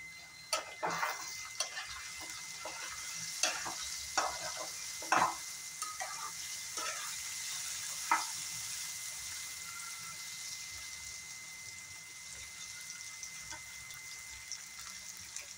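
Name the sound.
potatoes, tomatoes and onions frying with green chillies in pan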